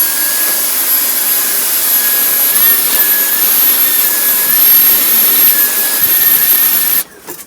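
A Dyson V8 cordless vacuum cleaner with a suction fault, run while pressure is put on the suction: a loud, steady high whine with a faint wavering tone that cuts off abruptly near the end.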